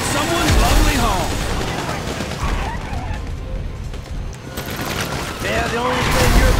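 Rapid bursts of gunfire crackle and boom through a dense, noisy action scene in Grand Theft Auto V, with overlapping voices shouting beneath the shots.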